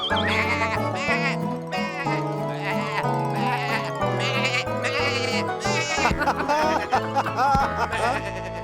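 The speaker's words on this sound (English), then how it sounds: "So that's the sheep." Cartoon sheep bleating in a children's farm show, with repeated wavering bleats layered over busy background music and sound effects.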